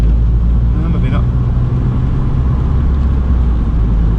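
Steady interior drone inside a turbocharged K20-engined Honda Civic EP3 Type R while driving, a loud, constant low rumble filling the cabin with no clear speech over it.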